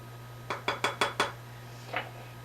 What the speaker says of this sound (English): And I'll give that a stir.